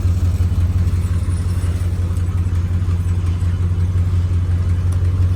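A truck engine runs steadily on an overland rig in rocky Texas terrain, a loud continuous low rumble with no breaks and no talk.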